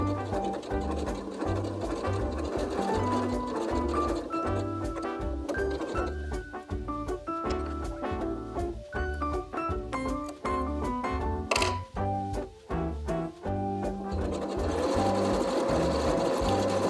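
A sewing machine runs an overlock stitch in a close, continuous mechanical whir with rapid needle clatter, briefly slowing and stuttering partway through before running steadily again, with no talking.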